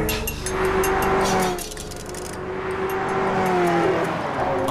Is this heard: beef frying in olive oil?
no